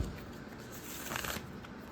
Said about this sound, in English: we're going to shuffle this deck